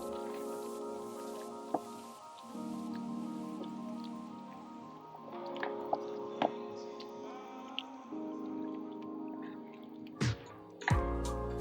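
Cooked pasta gets stirred into a shrimp Alfredo sauce, giving soft wet squishes and small clicks of a utensil against the pan, quiet and intermittent over a low steady hum.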